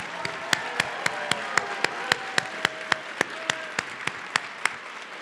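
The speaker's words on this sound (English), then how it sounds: "in a big round of applause" Graduation ceremony audience applauds, with sharp, rhythmic individual claps standing out over a sustained bed of clapping, fairly close and continuous without speech.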